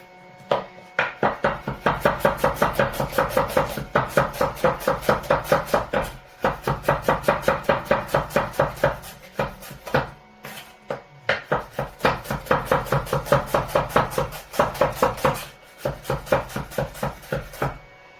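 Rapid, steady knife chops through an onion against a cutting board in long bursts with brief pauses, close and crisp, no talking.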